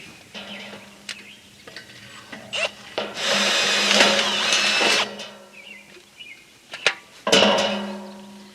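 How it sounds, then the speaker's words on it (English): A drill bores through a wooden hip board during high tunnel construction, with a steady motor hum and two loud bursts of grinding as the bit cuts into the wood, separated by quieter pauses. "Then we're going to finish drilling this hole the rest of the way through"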